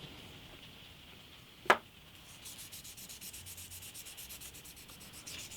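600-grit sandpaper worked over the bridge of an antique parlour guitar gives quick, rhythmic, soft scratchy strokes close by after a single sharp knock.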